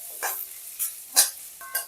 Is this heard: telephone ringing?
no